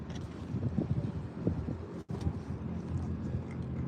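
Outdoors on a street in Monopoli, Puglia, wind buffets the microphone with a continuous low rumble and irregular gusty thumps, fairly faint, with a brief dropout midway.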